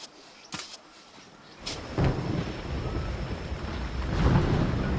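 Thunderstorm with rain over a sandbar in the Amazon rainforest, with a few sharp cracks early on, then a rolling rumble of thunder and a steady hiss of rain that swells toward the end.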